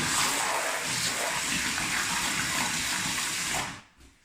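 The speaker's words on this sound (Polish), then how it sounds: "Dodam sobie jeszcze trochę wody. O, mam nawet wąż ogrodowy, żeby to łatwiej." A garden hose gushes water into a gypsum plaster mix during a rural house renovation, a loud continuous rushing stream that stops abruptly near the end.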